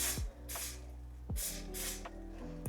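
Several short hissing sprays from an aerosol can of hair product, spaced unevenly over a low steady hum, fairly close.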